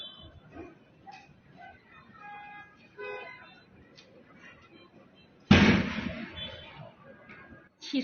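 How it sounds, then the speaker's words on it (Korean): A burning new-energy electric car in China explodes with a sudden loud blast after a stretch of muffled crowd noise and voices, and crackling rumble continues afterward. "차가 폭발했어요. 소리가 엄청나요."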